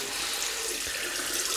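Tap water runs steadily into a sink as a Gillette Tech safety razor is rinsed, a continuous close hiss of flowing water with no voices.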